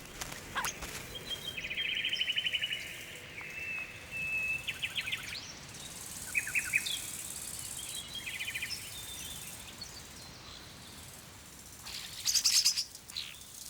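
European starlings chirping and whistling in bursts of varied calls, moderately close, over a steady rustling outdoor background.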